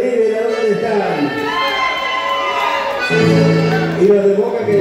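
Fans of River cheer and shout at a live open-air folk concert in Buenos Aires, a loud, close crowd roar with high whoops and voices rising and falling throughout.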